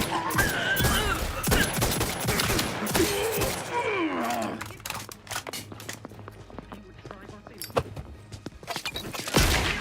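Gunfire in the video game The Outer Worlds 2, a rapid run of sharp shots mixed with game music and effects, with voices talking over the action.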